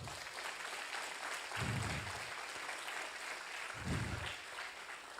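Steady applause from a crowd, sustained and fairly loud throughout, with a couple of swelling bursts of cheering voices.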